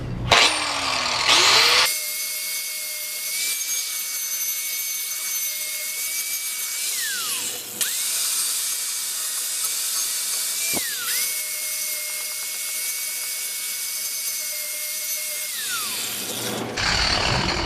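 A power sander works over the original steel rims of a 1969 VW Bug with a gentle, fine grit. A steady, close, high whine sags in pitch three times as the tool bears down, with no voices.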